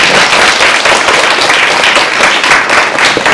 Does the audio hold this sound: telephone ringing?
no